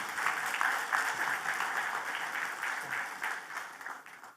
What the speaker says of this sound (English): Ladies and gentlemen, a big round of applause for Ramil.